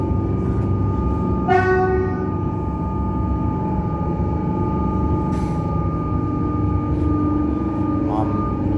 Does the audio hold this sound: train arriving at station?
yes